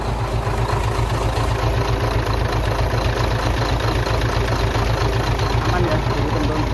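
A 2011 Hino FM 320 6x4 tractor head truck idling, a loud, steady diesel rumble with an even pulsing beat held throughout, close up, with a voice talking over it.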